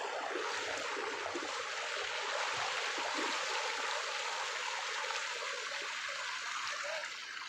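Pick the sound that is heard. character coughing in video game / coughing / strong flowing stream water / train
strong flowing stream water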